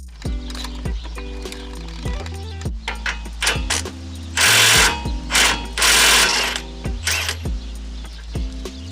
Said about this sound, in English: Then remove the tie rod in with the 21mm deep socket